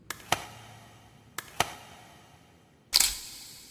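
Camera shutter clicks in the video game Crawl, three sharp isolated snaps spaced about a second apart, the last one louder and followed by a brief whirring burst, with no talk.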